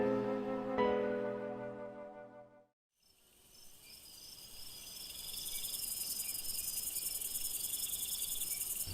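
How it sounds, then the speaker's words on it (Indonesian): A short musical tone fades into a brief hush, then crickets chirp continuously late at night, a dense high-pitched chorus. "Suara jangkrik masih bersautan meski malam telah larut."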